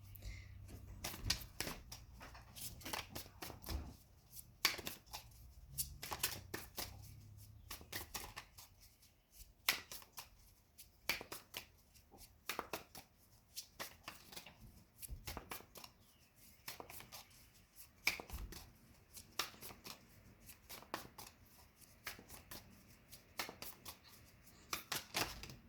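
Tarot cards are shuffled over and over in a quiet room, a long run of crisp riffling flutters and soft slaps in uneven bursts, fairly close and with no voices.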